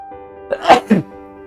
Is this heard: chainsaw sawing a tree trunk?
no